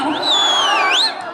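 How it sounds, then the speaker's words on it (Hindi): Loud, shrill whistles from the audience at a live Bhojpuri stage show rise and swoop over a dense, roaring crowd. "सीटी भी बज रही है।"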